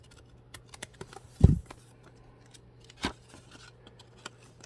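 Scissors trimming packs of 1972 Sunoco NFL stamps, with a couple of distinct close snips separated by a pause and small paper rustles and taps in between.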